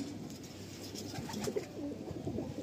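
Pigeons in a small loft holding good-quality birds give soft, low cooing throughout, a steady murmuring flock sound up close with no talking.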